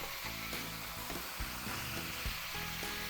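Beef ribs sizzle and fry in a wok for an Asian barbecue dish, a steady close crackle with light stirring knocks and no talk.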